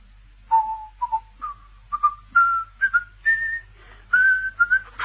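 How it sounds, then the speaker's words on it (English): A man whistles the Skye Boat Song alone, a string of clear notes stepping gradually upward in pitch with short pauses between phrases. "Yes, he was whistling. Sky Boat Song."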